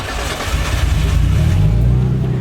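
Turbocharged Nissan R33 Skyline engine idling during a timing check, a close, loud, steady low rumble with slight wavering through the short stretch.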